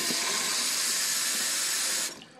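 Tap water runs into a nearly empty plastic ketchup bottle as a loud, steady splashing rush that stops abruptly near the end, leaving brief quiet.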